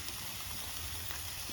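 Steady, bright sizzling from food frying on a hot Blackstone griddle, a continuous crackling hiss at moderate volume with no voices.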